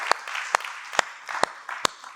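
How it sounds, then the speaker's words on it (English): A church congregation claps in rhythm during a worship service, five sharp group claps spaced about half a second apart over a steady bed of scattered clapping. "Let's give a clap offering for the amazing word of God today."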